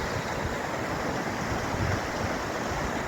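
The Sharymbay, a fast-flowing mountain trout river high in the mountains, rushes steadily with a dense, even roar of churning water. It stays constant and close, with nothing else over it.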